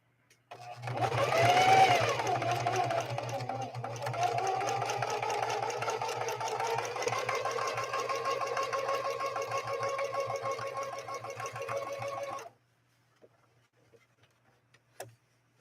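A Singer 4411 heavy-duty sewing machine stitches a mountain-style pattern, whirring loudly and steadily with a fast mechanical hum for about twelve seconds before it stops abruptly, leaving a few faint clicks.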